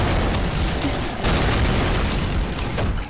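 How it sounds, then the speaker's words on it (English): A super shotgun fires in the video game Doom 2, its heavy booming blast loud and dense, followed by a roar of explosive noise that fills the short stretch without talk. "this is a super shotgun"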